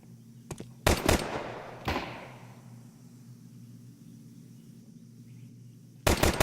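Pistol fire in a Counter-Strike match as a Glock and Dual Berettas trade shots: a few sharp, widely spaced cracks, including a quick double burst, over a steady low hum.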